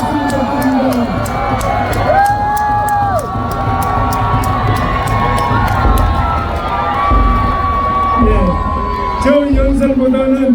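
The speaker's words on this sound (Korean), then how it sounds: "여러분 다시 한번 박수 부탁드립니다." A large crowd at an outdoor presidential campaign rally in Seoul City Hall Plaza cheers and shouts continuously, loud and close, with whoops and raised voices over a dense crowd roar.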